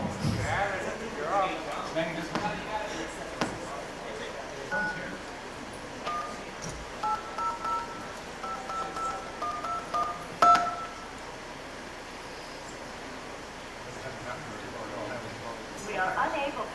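Touch-tone keypad beeps from a telephone being dialed during a live social engineering call, short steady tones in several separate bursts, heard beneath ongoing talk and room murmur.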